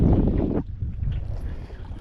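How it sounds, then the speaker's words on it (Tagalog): Strong northeast monsoon wind buffets a small boat at sea, a loud, rough gust that drops to a steadier rushing blow with a low, rumbling wind noise on the microphone. "Medyo mahangin pa rin yung amihan."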